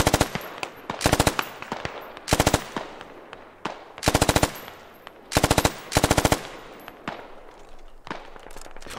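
Rapid automatic gunfire in the video game Squad, repeated close bursts of machine-gun fire separated by short pauses, with a few single distant shots in between.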